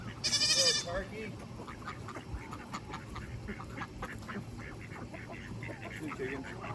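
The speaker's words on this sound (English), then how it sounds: "Two chickens." Farmyard poultry calls, opening with a loud, sharp harmonic squawk and followed by softer repeated clucks and chatter scattered over a continuous background hum, with a person talking faintly nearby.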